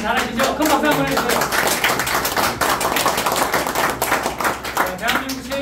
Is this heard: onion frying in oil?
no